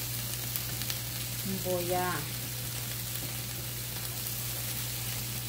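Oil sizzling on a hot comal, a soft, steady hiss under a low constant hum, faint and even throughout, with a brief spoken word midway.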